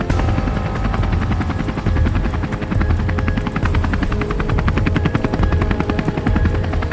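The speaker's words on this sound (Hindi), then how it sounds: "रोबोट हेलीकॉप्टर बनकर हाथी को जंगल में छोड़ता है।" Cartoon helicopter flying, a loud, fast rhythmic rotor chop running steadily throughout with no voices.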